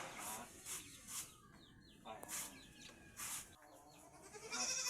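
Several goat bleats in quick succession, close by, with other farm animal and bird sounds around them in an outdoor backyard goat pen.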